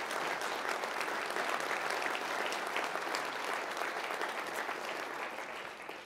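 Sustained, full applause from a large audience honoring a doctor at a pancreatic cancer research talk, dense and even throughout, tapering slightly at the end.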